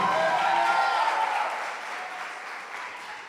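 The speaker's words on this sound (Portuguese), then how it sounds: "Só quem passou calor, aplauda mais forte ao Senhor." Church congregation applauding during a service, steady mass clapping that starts loud and gradually fades.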